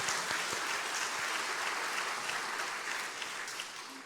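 Members of a church congregation applaud together, a busy, even clatter of many hands that stays steady and moderately soft before tapering slightly near the end, with no talking.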